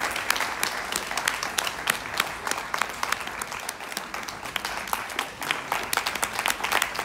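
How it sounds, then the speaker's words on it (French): Audience at an outdoor environmental concert applauding, a dense, steady burst of many hands clapping throughout, fairly loud and close, with a few crowd voices in the mix. "Applaudissements, s'il vous plaît, applaudissements."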